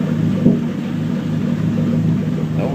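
A car engine idles with a misfire, a low, loud rumble with uneven pulsing and a slight stumble near the start, heard up close without talk.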